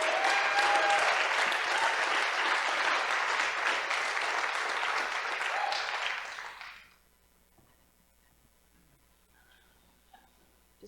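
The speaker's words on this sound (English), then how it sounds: "Let's have another round of applause for them." Audience applause at a charity fundraiser, dense and steady from a full room for about six seconds, then cutting off into near silence.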